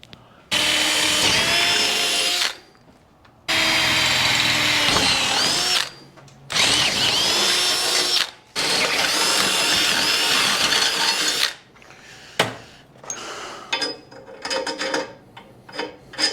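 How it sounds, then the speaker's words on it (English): A power drill runs in several long, loud bursts with short pauses between, drilling holes in a motorhome chassis frame, followed by clattering and handling noises. "I'll go up on the top side and then I'll drill some holes"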